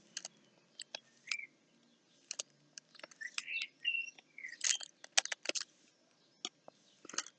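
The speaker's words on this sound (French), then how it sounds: "Et les oiseaux sont toujours dedans, évidemment." Birds perched in a cherry tree chirp and tweet in scattered, fairly close bursts against a quiet background. The calls are sharp and intermittent, and no voice is heard.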